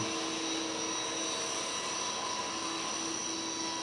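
A radio-controlled model airplane flies, its small engine giving a steady, even buzzing drone with a constant whine that holds fairly close and loud throughout, with no voices.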